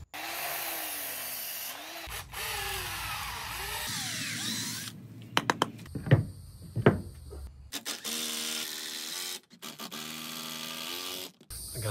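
A drill bores pocket holes through wood in a Kreg pocket hole jig while building an outdoor kitchen, whirring in long stretches, with pauses, sharp clicks and shifting pitch as the bit spins up and slows.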